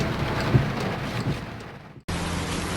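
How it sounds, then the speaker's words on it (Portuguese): Heavy rain pours down during a strong storm in Surubim, Pernambuco, a dense, loud hiss with low rumbles that may be thunder, broken by a brief dip before the downpour resumes. "muita chuva"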